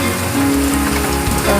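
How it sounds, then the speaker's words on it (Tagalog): Heavy rain pours down steadily in a hot desert setting in Saudi Arabia, a dense, continuous wash of patter with a low rumbling undertone, loud and close throughout, no voices. "Ang lakas-lakas ng ulan."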